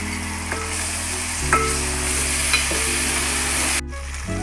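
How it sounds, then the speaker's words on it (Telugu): Tomato puree frying in a pan with onion, chilli and ginger-garlic paste for a spicy country chicken curry, a steady close sizzle with occasional stirring scrapes, no voices. "టొమాటో ప్యూరీ వేసి వేయించుకోవాలి."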